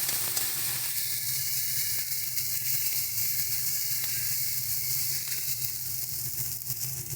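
Ground cumin, coriander and other spices sautéing in a pan on low to medium heat for a homestyle kochu and prawn curry, giving a steady, close, even sizzle and hiss that carries on throughout with no talking.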